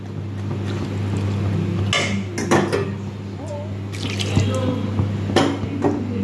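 Water poured into a pot of curry on the stove, splashing and trickling in short bursts with light clinks of cookware over a steady low hum.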